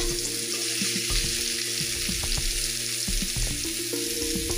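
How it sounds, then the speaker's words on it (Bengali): Mango pieces for mango pickle lightly fry on medium-low heat, making a soft, steady sizzle over a sustained tonal background with occasional small clicks, and no one speaking. "আমগুলো ঠিক এইভাবে কিন্তু হালকা ভেজে নেব, মিডিয়াম টু লো হিটে।"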